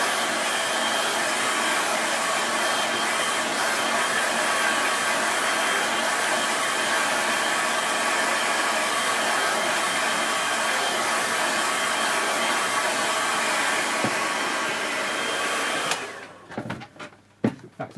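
Hair dryer blowing on wet watercolour paint, a loud steady whooshing hum running for about sixteen seconds before it switches off, followed by a few faint handling knocks.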